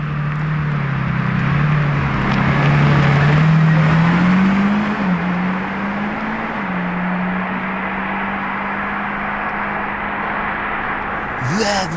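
A Lamborghini Revuelto's engine roars loud and close, its deep tone swelling and rising through a sustained rev before settling into a steady drone, with a brief sharp sweep at the very end.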